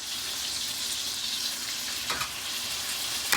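Patties sizzle steadily in a frying pan, a close, even hiss with a couple of faint clicks from the pan, and no voices.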